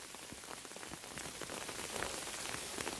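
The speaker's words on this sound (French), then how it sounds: "le bruit de la pluie ne seront pas trop désagréables pour vous" Steady rain falling in a forest, soft and fairly quiet, with a dense hiss and scattered individual drops pattering on leaves and ground; no voices.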